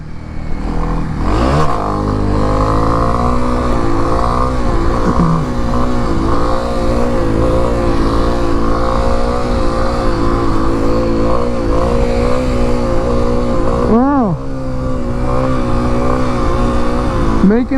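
A 2023 Kawasaki KLX300SM supermoto motorcycle revs steadily and loudly during a wheelie, a close, sustained engine drone with a couple of sharp throttle blips and pitch swoops, no talk.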